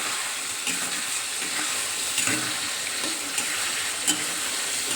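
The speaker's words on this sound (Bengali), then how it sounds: "তাহলে আমরা এটা কষিয়ে নিই ভালো রকম।" Tripe stir-fries in a hot wok, giving a dense, even sizzle close by, with soft scraping stirs rising now and then above the hiss and no voices.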